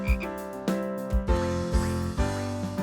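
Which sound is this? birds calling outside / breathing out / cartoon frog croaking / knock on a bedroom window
cartoon frog croaking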